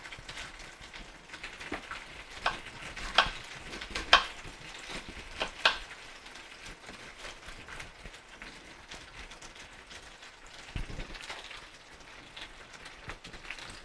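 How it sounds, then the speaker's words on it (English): Vegetables sizzle in a pan warmed with a little olive oil, a soft, steady frying hiss with scattered crackles and occasional brief clinks and stirring scrapes, fairly quiet throughout. "I got this pan warmed up with a little bit of olive oil."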